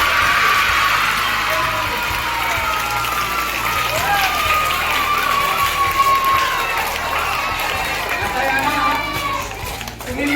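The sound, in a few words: school assembly applauding newly elected student leaders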